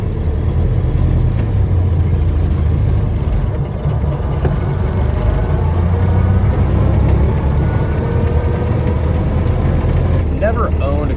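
A 1931 Ford Model A A400 cabriolet's engine drones continuously while driving, a close, loud low rumble with road noise throughout, and someone talks over it.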